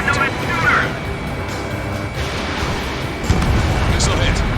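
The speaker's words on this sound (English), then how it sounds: "Missile hit." A missile strikes and explodes in Ace Combat 7, dull booms and a rumbling blast layered over continuous jet and combat noise, with radio voices talking over it.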